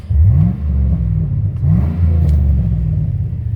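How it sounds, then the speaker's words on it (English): A 2005 GMC Sierra pickup, not fully warmed up, revs its engine twice in quick succession, a loud close low rumble that rises and falls with each throttle blip and settles back to a steady idle between. "So I'll give you guys a little rev."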